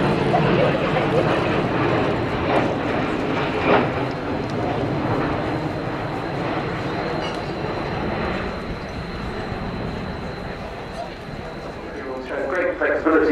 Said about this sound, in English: In from the right then, the new Wedgetail